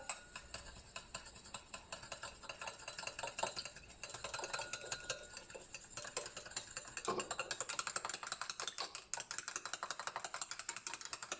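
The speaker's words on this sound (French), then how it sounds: "je vais devoir fouetter énergiquement. C'est comme si je faisais une mayonnaise à la main" An eye balm with helichrysum hydrosol is whisked vigorously by hand in a bowl, giving a fast, continuous rattling scrape of metal against the container, close and steady with a brief pause midway.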